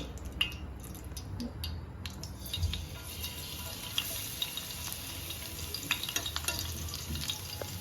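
Garlic fries in oil in a pan at the start of a clam curry, a continuous close hiss broken by soft clicks and scrapes of stirring.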